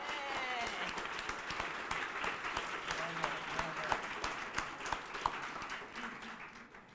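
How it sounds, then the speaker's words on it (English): Sustained audience applause at a women, peace and security panel event, steady dense clapping from a room of people lasting throughout and tapering off at the end. "let's give them a round of applause"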